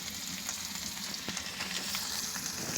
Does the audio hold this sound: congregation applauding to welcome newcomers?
no